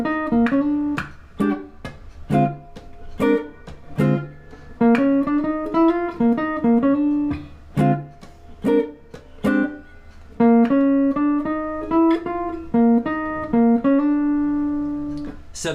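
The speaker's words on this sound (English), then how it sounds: "Static blues lick number 2 uses some chromatic notes, and it sounds like this" Guitar plays a jazz blues lick using chromatic passing notes, a quick run of single notes with slides and short phrases, close and clean, steady throughout with no voice over it.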